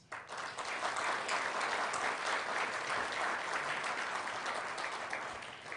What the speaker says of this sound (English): Let's celebrate this moment and this occasion with a big, big round of applause.